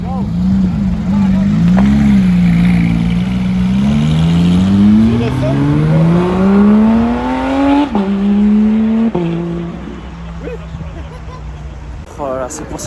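A Porsche GT3 engine revving hard as it drives past, the pitch climbing steadily then dropping with gear changes as it recedes, loud and close, with crowd noise at a car meet.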